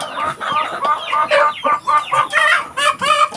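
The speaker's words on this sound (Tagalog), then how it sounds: "ito mga manok na istorbo so tapos nang nagkakainitan tong uh, mga barako" Roosters, fighting cocks, cluck and crow in a loud run of repeated calls, several birds close by with no talk over them.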